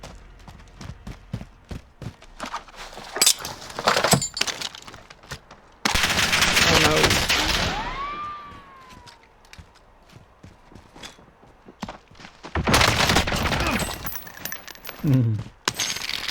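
Rapid bursts of FFAR rifle fire in the Call of Duty: Warzone video game, several sharp automatic volleys separated by quieter gaps, with game effects and a voice talking in between.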